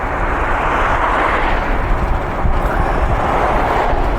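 A Mooncool TK PRO 1500-watt electric trike climbs a hill at full throttle, a loud steady whirring drone mixed with strong wind rush, continuous and close, with no speech.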